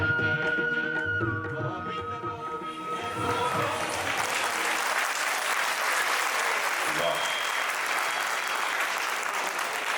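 Audience applause fills a packed hall after a devotional Meera bhajan performance, starting under fading music and voices, then swelling into steady, dense clapping that continues loudly throughout.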